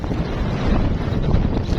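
Steady gusting wind buffets a microphone outdoors on a carp-fishing trip, a dense low roar that swells slightly midway, with no talking.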